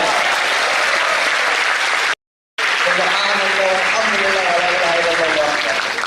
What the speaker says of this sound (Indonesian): tepuk tangan buat Unida